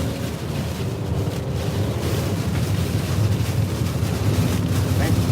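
Hurricane-force wind from the northeast during a storm surge, sustained around 60 with gusts to 70, a loud continuous roar and rumble buffeting close to the microphone without letup.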